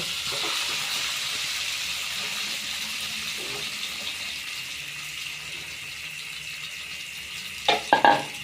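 Marinated rohu fish frying in a pan, a steady hiss of sizzling oil throughout, with a few sharper clatters near the end.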